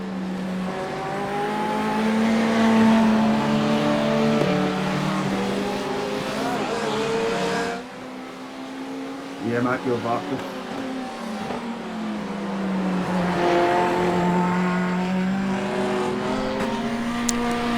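GT3 race cars in a racing video game roar through an overtake, engines revving with rising and falling harmonic tones, a brief lull and tyre-squeal bursts midway before the engine note swells again.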